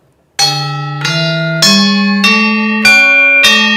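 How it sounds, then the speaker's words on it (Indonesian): A Balinese gamelan playing tabuh gilak opens with gong and unison metallic strikes: six loud, ringing hits, each sustaining with bright overtones into the next at a steady, stately pace. "kita coba diawali dengan gong dan pola unisono bersama dari nada gila itu sendiri"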